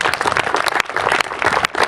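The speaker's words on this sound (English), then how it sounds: "let's give these people a round of applause" A crowd applauds at a softball complex groundbreaking ceremony, dense steady clapping from many hands filling the space close by, with a brief dip midway before the clapping swells again.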